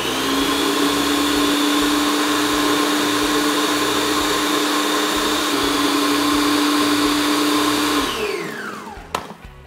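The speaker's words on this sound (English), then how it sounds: "now let's blitz until it's broken up but not too smooth" A blender blitzes garlic, basil and pine nuts for pesto in one loud, continuous whirring run that holds steady and then winds down in a falling whine before cutting off.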